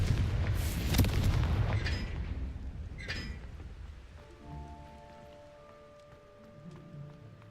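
A Confringo fire spell goes off in Hogwarts Legacy, with a loud crackling blast and a second burst about two seconds later. The rumble then fades into a quieter ringing tail.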